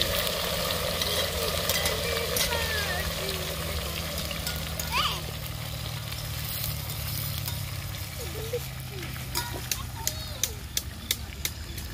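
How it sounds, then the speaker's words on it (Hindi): Half-boiled cut potatoes frying in oil for French fries outdoors in the woods, a steady bubbling sizzle with occasional spatters and clicks, while people talk over it. "हाफ बॉईल करने के बाद उसको हम अब फ्राई कर रहे हैं"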